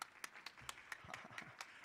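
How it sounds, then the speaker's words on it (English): Light applause at a small community gathering, a handful of separate claps in a loose, uneven rhythm, faint and close, with no crowd roar. "Caden started the applause, and then you heard that, so you felt obligated to applaud"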